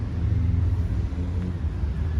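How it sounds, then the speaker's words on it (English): Road traffic around the ruins of Charles Church in Plymouth comes through as a continuous low rumble of passing vehicles, steady and moderately loud, with no talk. "We can hear the traffic driving around us"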